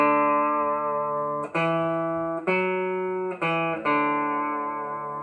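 A clean electric guitar plays a phrase of a tune with vibrato on the open D: five plucked notes in a slow, lyrical line, each ringing out clearly with no talk.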